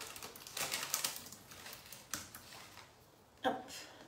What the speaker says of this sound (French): je mets le clavier derrière, comme ça, je n'ai plus à taper